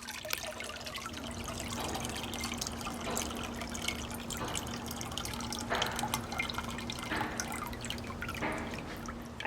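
Water trickling and dripping steadily from a paper mould and deckle just lifted out of a vat of pulp slurry during hand papermaking, a close, continuous patter with a faint background hum.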